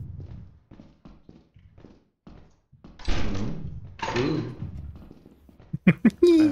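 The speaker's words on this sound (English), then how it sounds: "I hate the door opening noise." A door opens in the horror video game Lethal Company, following a series of soft footsteps. Two heavy, grinding, rumbling bursts sound close and loud, followed by a few sharp clanks.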